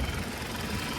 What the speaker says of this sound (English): brand spanking new GDI engine